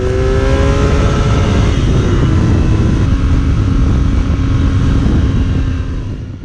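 A 2019 BMW R nineT Urban G/S motorcycle at speed on faster roads, its engine droning steadily and loud with constant wind rush, easing slightly toward the end.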